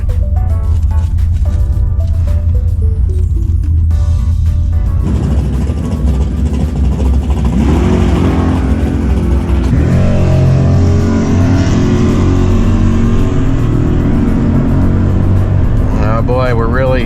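Chevrolet Suburban accelerating hard down a quarter-mile drag strip, heard from inside. The engine roars steadily loud throughout with shifting tone as it climbs through the run, and people talk over it.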